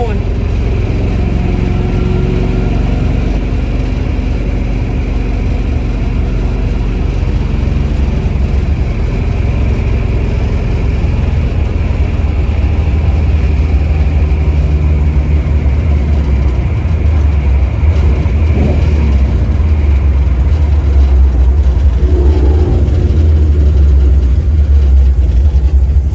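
A 1970 Chevy Nova with a 383 stroker V8 idles steadily and loudly up close, a continuous low rumble that holds through the whole stretch with no clear revving, while someone talks over it.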